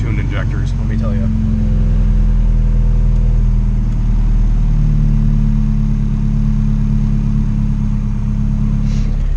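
An LS engine on a dyno, fitted with E85 tuned injectors, holds a loud, close, steady drone with a strong low rumble and slight swells in pitch as it runs.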